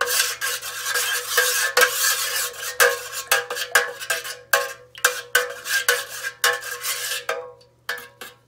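Melted soy candle wax being stirred in a pot for honeysuckle wooden-wick candles, a close series of scraping, clinking strokes against the metal with short pauses between them, loud and with no voices.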